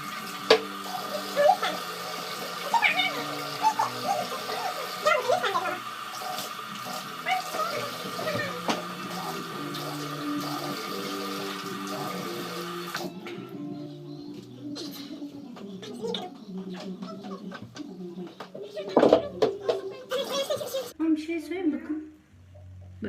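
Tap water runs steadily while hands are washed with homemade goat milk soap, a broad rushing stream for about thirteen seconds that then cuts off. Voices talk over it, with bird cooing nearby.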